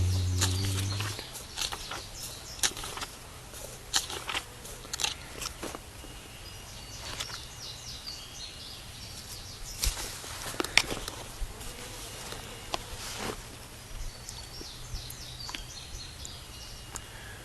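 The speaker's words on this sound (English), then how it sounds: "birdies chirping" Birds chirp outdoors during a Shabbat service, with repeated bright calls and trills alongside buzzing insects and a few footsteps over 17 seconds, and no one speaking.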